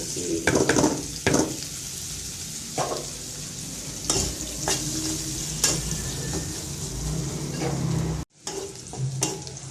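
Onion fries in hot oil with a continuous sizzle while a spatula scrapes and knocks against the pan in irregular strokes, a brief cut near the end before the frying resumes; no one speaks.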